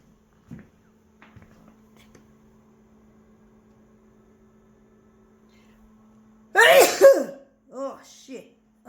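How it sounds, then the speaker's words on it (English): After a quiet stretch of low hum and faint clicks, one sudden loud sneeze bursts out close by. A short spoken voice follows right after it. "Oh, I just sneezed, folks."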